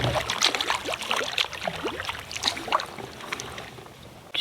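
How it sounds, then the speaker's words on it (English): A canoe is paddled on remote wilderness water, with repeated close splashes and drips from the paddle strokes falling in an uneven rhythm. "Cue the paddling time lapse."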